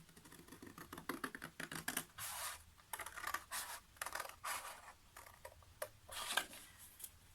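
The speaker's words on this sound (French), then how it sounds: "moi je le fais au ciseau" Scissors cutting paper card for a card storage box, a series of soft, close snips and scratchy slides in an irregular rhythm, faint and quiet.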